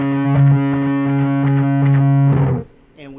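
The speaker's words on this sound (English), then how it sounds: "when we engage our sounds here, our high gain and our wah pedal" High-gain, heavily distorted electric guitar playing octaves through a wah pedal worked in a steady rhythm, with sustained sweeping notes and no talking; the tone cuts off sharply near the end.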